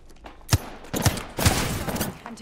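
Rapid gunfire in the Apex Legends battle royale video game, several loud bursts of shots in a fast rhythm close up, mixed with game effects and no talking.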